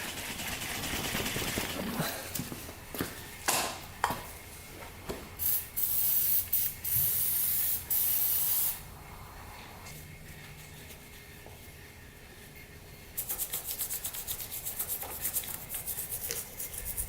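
Easy-Off oven cleaner sprayed onto a grimy Warrior 350 motorcycle, a series of short hissing aerosol bursts followed by longer sustained sprays, close and loud, with quieter background hiss between.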